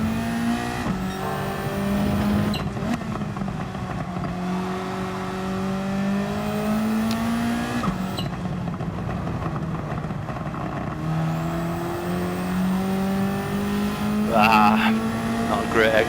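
Race car engine in Gran Turismo 7 during a time trial lap, a steady droning whine that rises and falls through gear shifts, continuous throughout with a voice talking over it.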